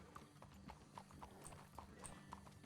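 Horse hooves clip-clopping in a western-themed RedM roleplay game, a steady, fairly quiet series of light hoof clicks over a low ambient bed.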